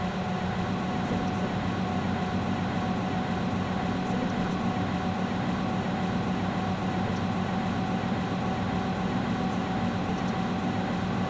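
A BR Class 55 Deltic diesel locomotive in the Train Sim World game picks up speed, its steady engine drone and rolling rumble continuous and close throughout, with no talk over it.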